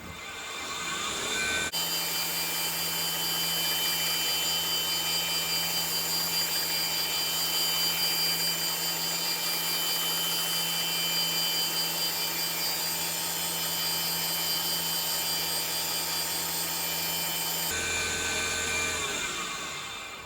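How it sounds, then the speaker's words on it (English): A belt grinder sharpens a knife blade with a steady, high, abrasive whir. It starts abruptly, runs evenly for about sixteen seconds, then cuts off, with no talk over it. "let's go ahead and sharpen it for him."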